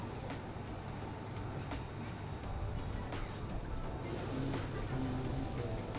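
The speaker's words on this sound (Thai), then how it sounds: "ให้ดูรถไฟที่เราขึ้นมาครับ เรียบร้อยออกแล้ว" A train rumbles steadily as it pulls away from a station in Kagoshima, Japan, a broad continuous roar with faint rattling, heard from fairly close.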